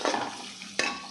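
Spices and turmeric powder sizzle in hot oil in a pan for tomato pepper rasam, a steady close frying hiss with a sharper burst of crackle near the end; no voices.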